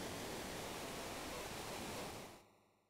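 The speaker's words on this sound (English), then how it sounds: "sounds like a waterfall?" A waterfall in Final Fantasy 6 roars as a dense, steady rush of broadband water noise, then fades quickly near the end and leaves a faint tonal hum.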